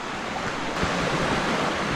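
Broadband rushing of a river heard close by at the bottom of a steep descent, with a steady wash of flowing water and no voices.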